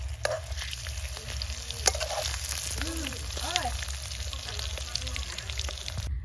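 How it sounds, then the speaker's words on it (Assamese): Potatoes sizzle steadily in hot oil with turmeric, chili powder and salt, a constant close frying hiss with occasional clinks of a utensil while a person talks over it. "ইফালে আমি আলু ভাজি বহাই দিলোঁ তেল দি পিনে আলুকেইটা দি হালধি দিছোঁ আৰু জলকীয়া গুড়ি লগতে নিমখ দিছোঁ"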